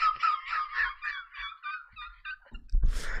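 A goose in a video game honks in a quick run of nasal, rhythmic calls, close and clear, followed by a short louder burst of noise at the end.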